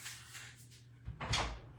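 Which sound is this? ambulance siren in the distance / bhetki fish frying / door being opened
door being opened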